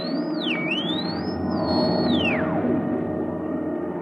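A sci-fi sweeping tone glides up and down, then dives steeply, over a steady low hum: an electronic jump effect, loud and continuous.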